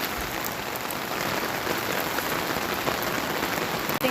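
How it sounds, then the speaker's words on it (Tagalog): Steady rain falls on a rainy Saturday morning, a dense, even hiss of drops hitting surfaces that continues unbroken for about four seconds with no voices. "Right now, it's raining, men."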